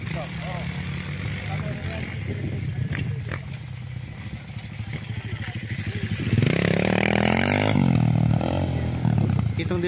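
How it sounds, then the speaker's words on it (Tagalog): Large motocross motorcycles riding nearby on a rural farm lot in Nagcarlan, Laguna, engines droning steadily then revving hard into a loud, rising, wavering snarl, with someone speaking over the earlier part. "Yung nagmumotor na malaking motor."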